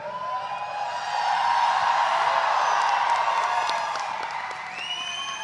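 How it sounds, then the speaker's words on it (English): Crowd of fans cheering and applauding at a Valorant LAN grand final, a broad steady roar with whoops and claps that swells in the middle and holds throughout, no talk over it. "it's really nice to see people cheering for me, for my team"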